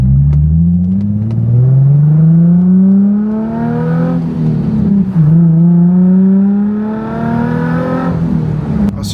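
A Nissan 350Z fitted with bucket seats accelerates through the gears, heard loud from inside the car, its engine rising in pitch, dropping at each shift and climbing again.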